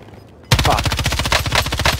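Rapid automatic gunfire in the Call of Duty Cold War multiplayer game, a loud burst of regular shots beginning abruptly after a half-second of quiet and continuing steadily to the end.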